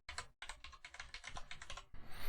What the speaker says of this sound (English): I'm just going to quickly type that out.